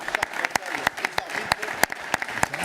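An audience claps in a brisk, steady burst of applause, fairly close, the individual hand claps clearly distinct.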